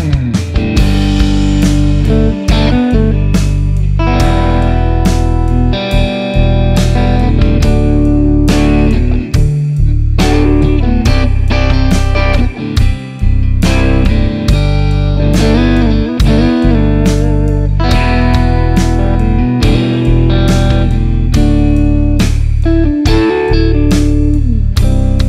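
Electric guitar jamming licks woven through a chord progression, a steady loud run of strummed chords and melodic fills for the whole stretch, with no voices.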